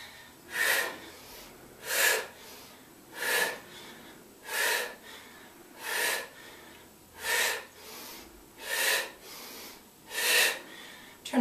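Heavy, rhythmic breathing during a bootcamp workout, about nine loud, evenly paced breaths close to the microphone, each a forceful rushing exhale with quiet gaps between.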